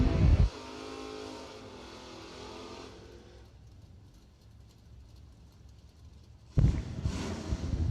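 Drag racing cars, a Chevy S10 and a Camaro, sit at the starting line at a bracket racing event; a loud engine roar breaks off into a low rumbling idle, then another loud blast of revving returns near the end.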